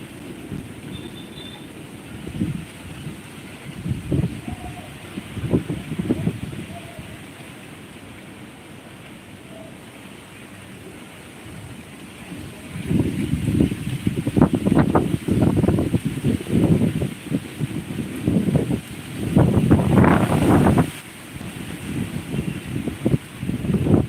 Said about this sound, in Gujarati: વરસાદનું ઝરસાટ ચાલુ થઈ ગયું પણ પવન વધારે છે